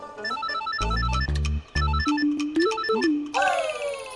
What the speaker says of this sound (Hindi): लगता है आर्यवर्धन सर का फोन है।